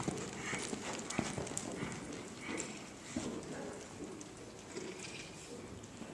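Cantering horse hooves thud in an uneven rolling rhythm on soft ground, fairly close and moderately loud, with outdoor noise around them.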